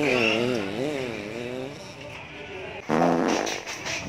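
A long wavering fart rumbles close and loud for almost three seconds, followed by a shorter burst, in a noisy room.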